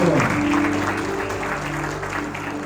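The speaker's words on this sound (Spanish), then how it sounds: "Un aplauso, jóvenes." Audience applause welcoming a guest from San Rafael at a church youth gathering, steady clapping throughout with a low sustained tone and some background voices underneath.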